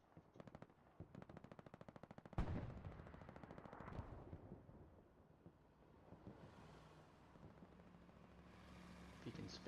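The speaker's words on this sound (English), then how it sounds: "Taco tanks taking some shots at each other." Tank combat in a World War II video game with a Sherman and Panzer IVs: rapid machine-gun bursts at first, then a loud cannon-like blast followed by rumbling, scattered gunfire and engine noise.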